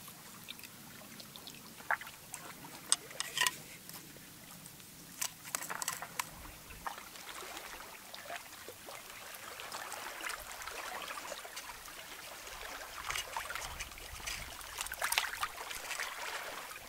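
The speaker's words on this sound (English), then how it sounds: "And now I have to wash out the guts." Water pours and trickles while animal guts are washed out as survival food is prepared outdoors, an uneven splashing and dribbling with scattered sharper splashes, moderately close and without talk.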